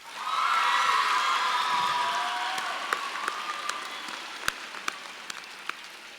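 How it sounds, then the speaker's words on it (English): Sustained applause with cheers and whoops from a large audience at an eighth-grade promotion ceremony for the class of 2023, loud at first and gradually thinning, with scattered individual claps toward the end. "I think we should just give another round of applause to the class of 2023."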